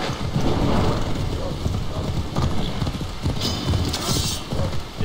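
Rapid hoofbeats of a galloping horse in Assassin's Creed Odyssey, a steady clip-clop rhythm over a low, rumbling background.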